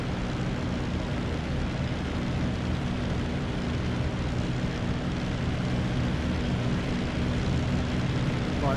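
A Supermarine Spitfire IX's piston aero engine in the DCS World flight sim over Normandy, a steady droning propeller roar held at climb power, continuous and unbroken throughout.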